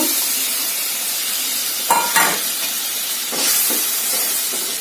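Fried potatoes go into a simmering Bengali curry of vegetable stalks, heard as a continuous loud sizzle and steamy hiss with a couple of short stirring or dropping clatters mid-way.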